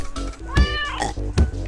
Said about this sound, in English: I have a cat sleeping with me